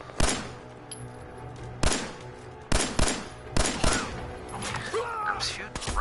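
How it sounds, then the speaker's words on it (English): Gunfire from the video game Fallout 4: several sharp, loud shots in irregular bursts, each with a short decaying tail, over a low ambient bed. "I'm shooting right at you"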